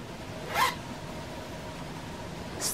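Zipper on a crocheted broomstick lace skirt pulled in two short zips, a clear one near the start and a shorter one at the end, close by with no talking.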